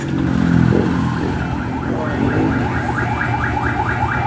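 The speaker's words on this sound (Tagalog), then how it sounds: "On and then start your engine." A carbureted motorcycle engine with a carburetor overflow issue catches and settles into a steady, rising-and-falling running drone, loud and close, with no talking.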